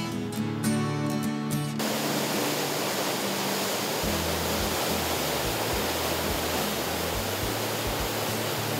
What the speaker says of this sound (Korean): 눈이 녹으니 더 힘차게 쏟아지는 용추 폭포.